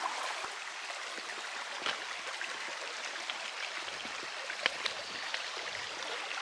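A cold stream on the Appalachian Trail, where bare feet are soaking, gives a soft, steady trickle and burble of flowing water, faint and continuous, with a few small splashes.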